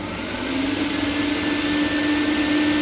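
A household vacuum cleaner switches on and runs at a steady, loud, close whine with a constant hum, drawing power through a voltage stabilizer while an electric kettle and induction hob are also on. No voices.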